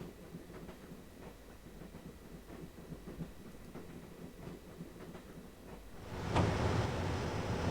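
A train in Broken Sword rolls along with steady rhythmic clickety-clack over a low rumble, then swells louder with a hissing rush near the end.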